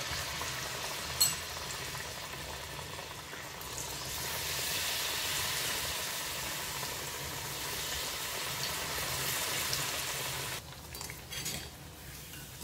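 Crisp water chestnut flour fritters (bhaji) fry in hot oil on a gas stove, with a steady close bubbling sizzle that swells as the battered piece goes in and carries on alone with faint clinks.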